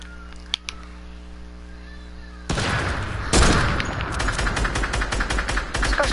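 Sniper rifle shots in a shooter video game: a quiet hum with a couple of faint clicks, then a sharp loud shot, another blast a second later and a rapid stream of crackling gunfire and game noise.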